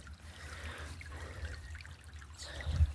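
Creek water rushing past clumps of plants like small rapids, a steady close trickling and pouring wash throughout, with a louder splash near the end.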